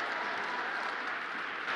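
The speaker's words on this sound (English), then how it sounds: "Let's clap for that." Brief, steady wash of audience applause, a dense even clatter of many hands heard throughout at moderate level.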